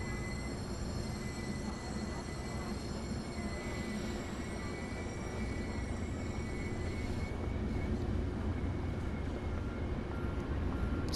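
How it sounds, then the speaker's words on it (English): A Metrolink MP36PH-3C diesel locomotive pulls away in a train simulator game, a steady loud rumble with rail noise and a thin high whine that drops away partway through. "Here goes this locomotive taking off."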